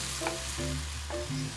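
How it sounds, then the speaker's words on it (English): Japanese mushrooms sauté in a frying pan with a loud, close, steady sizzle, and a low tonal hum pulses underneath in short repeated bursts. "Make sure to stir or toss and let those saute for a few minutes."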